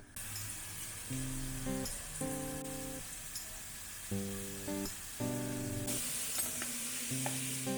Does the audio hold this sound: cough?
no